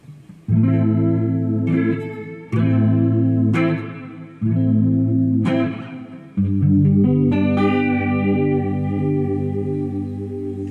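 An electric guitar plays sustained chords in four bursts through a T-Rex Whirly Verb pedal, each drenched in a wavering, swirling modulation effect that pulses and warbles as the notes ring.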